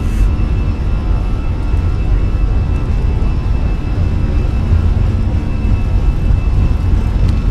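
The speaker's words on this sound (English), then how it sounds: "Takeoff power set." Fenix A320 jet engines spooled up to takeoff power during the takeoff roll in Microsoft Flight Simulator, a loud steady broadband roar with a faint high whine, continuous and alone.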